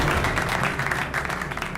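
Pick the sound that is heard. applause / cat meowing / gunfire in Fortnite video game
applause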